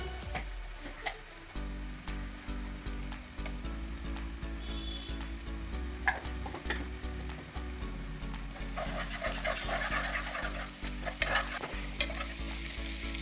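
Green chilies, turmeric and ginger garlic paste frying in oil for a soya chunk curry, a steady sizzle overlaid with irregular spoon taps and scrapes against the pan, a low hum underneath, no voices.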